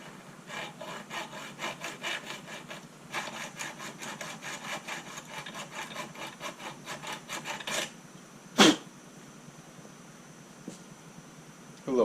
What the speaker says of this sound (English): Start a cut with this mini hacksaw